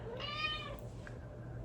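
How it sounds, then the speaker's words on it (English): An elderly cat gives one small, quiet, drawn-out meow, then a faint chirp follows, close by over a low steady hum. "she makes these little meows"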